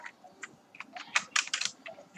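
Typing on a computer keyboard while writing JavaScript code, quick irregular bursts of close key clicks with short pauses, alone and fairly quiet.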